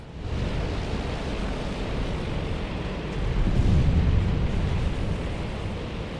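Explosion on an aircraft carrier deck in the Task Force Admiral naval game, a sustained loud rumbling roar that swells midway and holds like a heavy blast wash.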